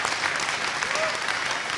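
Studio audience at a Bhojpuri music competition show applauding loudly, a dense continuous burst of clapping with no voices over it.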